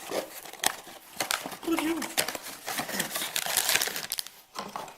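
Packets torn open by hand, close crisp crinkling and ripping plastic in irregular bursts, with brief quiet gaps and a voice speaking softly over it.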